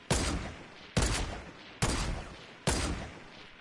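Four evenly spaced, sharp gunshots in Fortnite Battle Royale, each a loud crack with a short decaying tail, roughly one shot per second.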